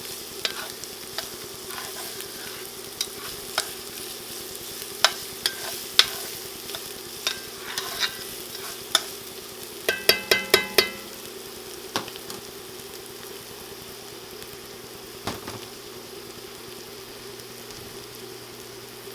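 Ingredients for a black rice dish are stirred and sizzle steadily in a pan, with a spatula scraping and tapping in scattered clicks and a quick burst of knocks partway through.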